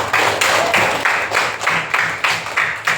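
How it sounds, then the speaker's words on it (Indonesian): A small group in a classroom teaching session claps hands in a steady, rhythmic beat, loud and close, with roughly three claps each second and no talk. "Tepuk tangan untuk kita semua ya."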